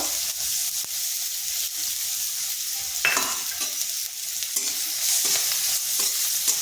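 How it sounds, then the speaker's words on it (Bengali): Finely chopped medium onion frying in oil with turmeric, a constant close sizzle broken by repeated scraping stirs and clacks of a spoon, no speech. "হালকা একটু ভেজে নেব।"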